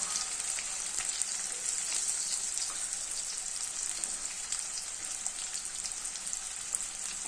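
Onion and garlic sauté in a pan, a continuous close bright crackling sizzle with tiny spits and pops throughout, no voices over it.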